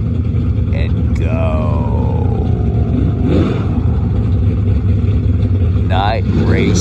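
A drag race car idling and roaring before night drag racing, loud constant engine rumble with rising revving whines and pops, voices talking over it.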